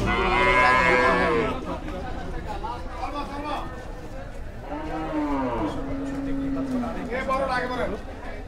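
Cattle at a crowded Qurbani livestock market in Hozrotpur, lowing in drawn-out moos, one loud near call at the start and more that follow, amid busy market chatter and voices.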